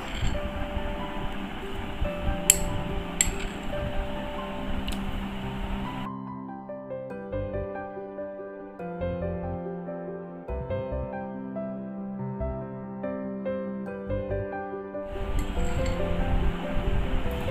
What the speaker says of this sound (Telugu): ఇలా ఇప్పుడు దీన్ని ఐస్ ట్రేలో వేస్తున్నాను